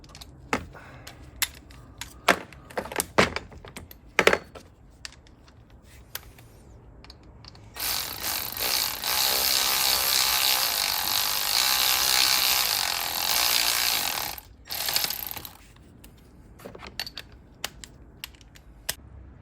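A ratchet runs bolts in on the belt tensioner of a 2011 Mercedes C350: scattered clicks, then one sustained, loud, fast run of ratcheting close to the microphone, followed by more isolated clicks.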